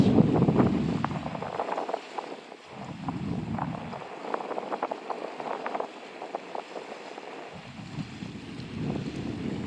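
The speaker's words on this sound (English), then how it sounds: "A lot of wind and chop today." Gusty wind buffets the microphone over choppy water on Bull Shoals Lake, with slapping waves and rumbling bursts rising and falling in uneven surges throughout.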